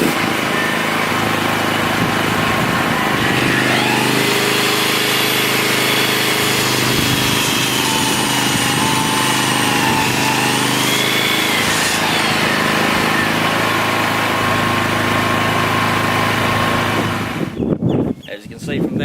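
A Festool Kapex mitre saw cuts through a large piece of timber, its loud motor whine steady for about seventeen seconds as the blade bites the wood, then winding down abruptly at the end.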